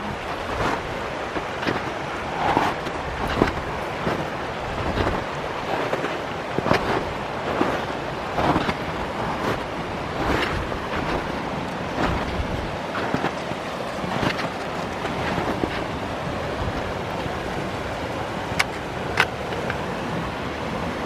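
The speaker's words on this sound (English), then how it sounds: "give you a little time to enjoy the sound of the creek" A creek flows outdoors on a ranch, a steady rushing wash of water with gusts of wind buffeting the microphone, continuous and fairly loud throughout.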